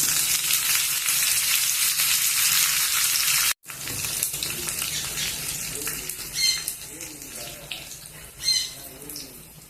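Mustard seeds, cumin, a dried red chili and curry leaves sizzle and crackle in hot oil for a tempering, a steady loud frying hiss with a sharp break partway through, then spitting pops and faint stirring.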